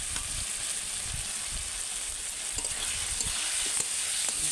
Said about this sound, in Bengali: এবার এই সবজিটা ভেজে রেখেছিলাম ওটা দিয়ে দেবো।